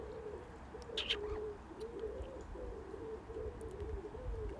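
A wet magpie calling, giving a run of low, wavering cooing notes repeated close by over quiet background noise, with a brief higher squeak near the start.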